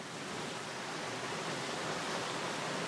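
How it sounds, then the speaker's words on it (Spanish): Rough sea surf on intense blue water, a steady broadband wash of breaking waves that holds constant and loud throughout with no voices. "Oleaje de un mar de intensas aguas azules."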